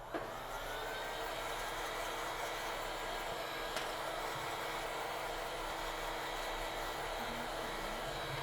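A hot air gun blows steadily to dry a cleaned, deoxidized phone circuit board, giving a loud continuous whooshing hiss with no breaks across the whole stretch.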